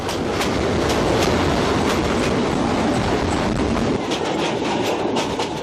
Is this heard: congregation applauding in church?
no